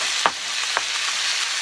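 Mushrooms and meat sizzle in a hot pan, a loud, steady frying hiss broken by two sharp stirring clicks near the start.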